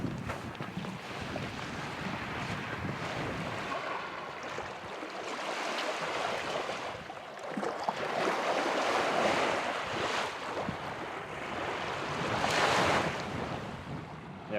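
Waves wash steadily onto an island beach under gusting wind, a broad continuous surge that swells and eases, with no voices.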